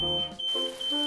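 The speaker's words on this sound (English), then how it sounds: "Alarm." A smoke alarm gives a shrill, steady electronic beep, sounding continuously and loud for about a second with a brief break in the middle, no voices present.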